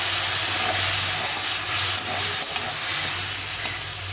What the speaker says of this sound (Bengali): একটু জল দিলে ভালো করে কষাতে হবে